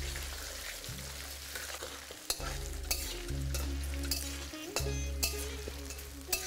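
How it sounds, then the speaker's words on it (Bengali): Cut potatoes fry over a medium-low flame for a winter spring-onion and potato dry curry, with steady sizzling and repeated scraping stirs of a spatula in the pan, several sharp clinks punctuating the crackle, no talking. "তারপর ফ্লেমটাকে মিডিয়াম টু লো করে এটাকে ভালো করে ভেজে নিন।"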